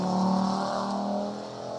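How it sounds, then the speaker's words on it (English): A Group B Audi Quattro rally car in A2 spec drives past on a historic rally stage, its engine a loud, steady droning roar that eases off slightly as it goes by. "There's Don Booth in the first of our Group B Quattros in its A2 spec."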